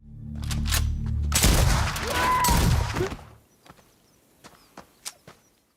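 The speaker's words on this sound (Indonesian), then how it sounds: "langsung menembak beberapa penyusup yang sempat bersembunyi di rumahnya itu" Gunshots in a film scene where intruders hiding in a house are shot. A loud, dense burst of firing lasts about two seconds, then scattered quieter cracks and shuffling follow.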